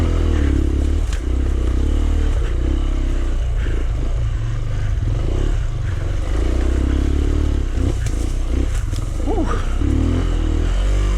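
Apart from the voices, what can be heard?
Rieju Marathon Pro enduro motorcycle riding up a stream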